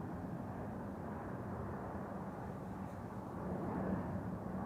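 A Boeing 787-9 Dreamliner in new livery arrives at Amsterdam Schiphol after a long-haul flight, its engines a steady, broad, moderately loud rumble that swells slightly toward the end.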